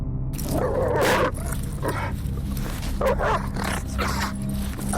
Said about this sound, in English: A pack of 6 feral dogs runs through the mission area.